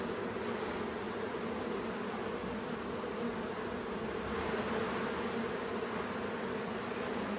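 A dense, steady buzz of many honeybees swarms around an opened hive frame during queen rearing, close and continuous with no talk.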